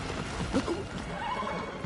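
A horse in Shadow of the Colossus gives a short whinnying neigh, the rising and falling call standing close and fairly clear over steady game background noise.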